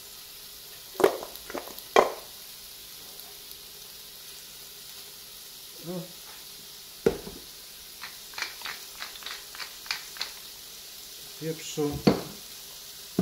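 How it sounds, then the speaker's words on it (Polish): Pork ribs seasoned with salt and pepper sear in a pan, a low steady sizzle punctuated by clinks and scrapes of turning the meat, while a voice talks over it. "i będę sobie teraz to obsmażał"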